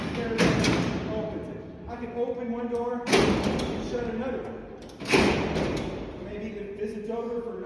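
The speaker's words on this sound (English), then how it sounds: "I can open one door and shut another one." Heavy steel cell doors at Alcatraz prison slide and slam shut, giving three loud metallic clanks about two seconds apart, each with a ringing tail in a large echoing cellblock, with someone talking between the impacts.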